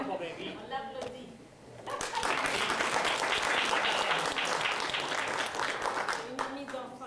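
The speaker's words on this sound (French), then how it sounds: "On l'applaudit." An audience at an interfaith speech event in Canada breaks into warm, sustained clapping for several seconds. A voice can be heard before the applause and again as it fades.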